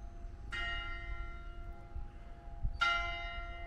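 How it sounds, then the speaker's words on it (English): Two separate strikes of an old church bell heard from an old graveyard, each ringing out with a long, slowly fading tone over faint background noise. "There we have the bells ringing. The old church."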